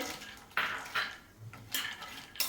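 Whole cashews tumble into a pan of almonds roasting in ghee for sugar-free dry fruit ladoos, sounding as a few sharp, close clatters and scrapes of nuts and a spoon against metal, with quiet gaps between.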